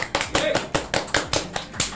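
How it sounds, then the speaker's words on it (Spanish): A small group claps to cheer an animation student during an interview about film, about ten sharp, evenly spaced claps in quick rhythm, fairly close and moderately loud, with faint voices underneath. "¡Un aplauso!"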